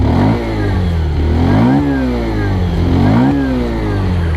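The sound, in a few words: Bajaj Pulsar 125 motorcycle exhaust revving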